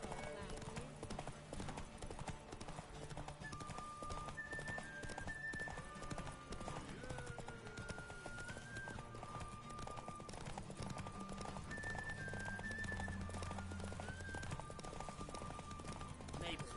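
Steady clip-clop of horse hooves at a gallop in The Witcher 3: Wild Hunt runs throughout, with a whinny and background music and voices layered over it.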